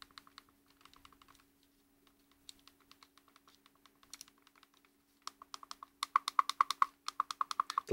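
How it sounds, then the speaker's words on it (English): An Anbernic RG35XX SP handheld console gives quick, close button clicks, first faint and sparse, then louder, sharper and faster in the final seconds. "The loudest buttons are start and select, and the menu button. Face buttons are more of a quiet clicky, and D-pad as well."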